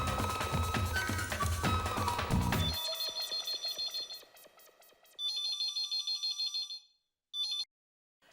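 A mobile phone rings loudly in bursts of electronic tones, alone after a noisy stretch of music and clatter, with repeated ring patterns and short silent gaps before a final brief ring.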